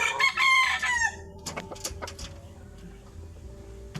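A five-month-old Golden Boy cross rooster crows once, close and loud, followed by softer clucks and rustling in a farmyard setting.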